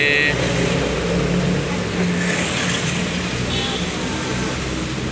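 Diesel engine of a tronton bus from the Indonesian bus company Rapi, a loud, steady low rumble idling close by throughout, with faint traffic in the background.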